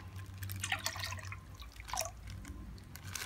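Water poured into a cooking pot while boiling village chicken in fish sauce, splashing and dripping in short irregular bursts over a steady low hum, fairly faint and without talk.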